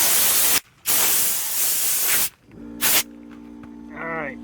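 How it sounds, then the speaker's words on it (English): WD-40 spray on bolts under a 1996 Chevy Tahoe during fuel tank work: two long, close hissing bursts, then a short third burst, followed by faint clinks and a tonal squeak in a quiet garage. "Spray a little WD-40 on those."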